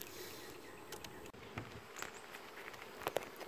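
Honey bees buzz around the hives with a steady, faint drone, and louder passes come and go as single bees fly close to the microphone.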